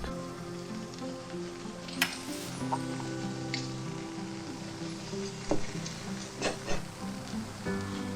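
An omelet fries gently in a pan over low heat, giving a soft, steady sizzle with a few sharp clicks and scrapes.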